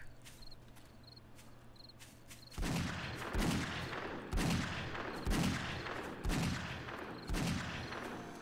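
Gunfire in the zombie survival game 7 Days to Die during a horde night: a run of heavy, evenly spaced shots, about five in a row, loud and close, following a quieter stretch with chirping insects.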